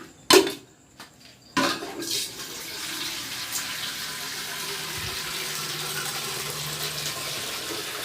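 Water poured into a glass while cooking herb-baked chicken outdoors. A few sharp knocks and clinks come first, followed by a steady, moderately loud stream of splashing water that continues to the end.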